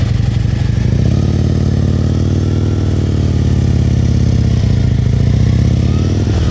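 A motorcycle putters along at slow speed during a riding-skills practice session in New Jersey, its engine idling and chugging steadily up close with slight throttle variations and faint clatter, no talk over it.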